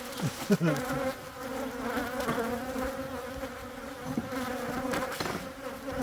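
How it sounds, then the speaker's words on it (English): A wasp buzzes close by around a beehive during an inspection with a smoker, its droning whine rising and falling, with a faint voice briefly in the background. "Ooh, there's a wasp."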